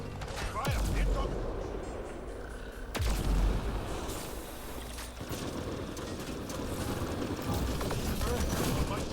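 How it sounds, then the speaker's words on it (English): An enemy Destroyer in Mass Effect Andromeda multiplayer fires on players, sending two heavy booming impacts with deep rumbling over a steady din of combat noise and mechanical clatter, while voices talk through it. "I knew the destroyer was shooting at us"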